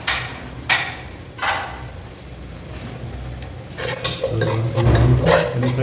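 Garlic and curry leaves frying in a pan for coconut fish head curry, with a few sharp scrapes and knocks of a stirring utensil over a sizzle that grows louder toward the end.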